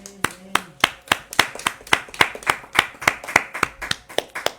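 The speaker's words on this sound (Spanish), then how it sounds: "Dele un fuerte aplauso al Eterno" A small church group gives a round of applause at a Shabbat gathering, claps sounding as distinct, steady sharp hits at a brisk rhythm, close and fairly sparse, with a brief voice at the start.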